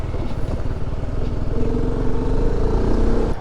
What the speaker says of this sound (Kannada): ಗುರುಗಳು ಬೈಕ್ ಓಡಿಸ್ಬೇಕಂತ